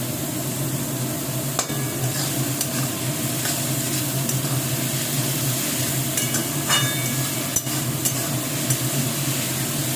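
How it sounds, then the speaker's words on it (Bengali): Ingredients lightly frying in a pan with salt, a loud continuous sizzle with occasional sharp utensil clicks and scrapes throughout. "হালকা ভেজে নেব এখনই কিন্তু পুরোপুরি ভেজে নেব না"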